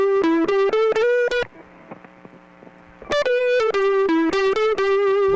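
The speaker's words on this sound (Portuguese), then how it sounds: "Mas a gente pode criar uma leve distorção nele. Um crunch, por exemplo." Electric guitar run through FL Studio's Fruity WaveShaper for a light crunch distortion plays loud, sustained, buzzy notes in two phrases separated by a short quiet pause with low hum.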